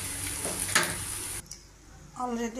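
Ridge gourd paste almost done frying in a pan, with a busy sizzle and stirring scrapes at first, then a quieter hiss, and a voice briefly at the end.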